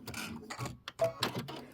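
Sewing machine stitching on a Kimberbell March mini quilt, running in short mechanical bursts with rapid rattling needle strokes and brief pauses as the stitch is locked, close and moderately loud.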